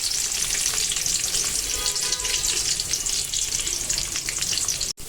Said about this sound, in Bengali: গরম মশলার সাথে পেঁয়াজও কিন্তু একটু ভেজে নেব।